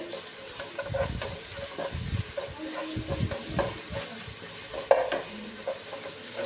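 Onion sautéed with ginger-garlic paste for pav bhaji, a quiet, steady sizzle with rhythmic low scraping and shuffling of a spatula in the pan, plus one sharper clink near the end.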